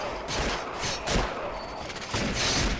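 Rapid gunfire bursts in the zombie survival video game Deadly 30, with repeated shots and booms in a dense, continuous barrage that swells and fades across the clip.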